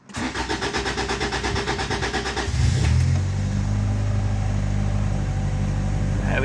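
A 1985 Honda Accord carburetor engine starting with the choke on: a rhythmic starter cranking for over two seconds, then the engine catches and settles into a loud, steady fast idle, recorded close.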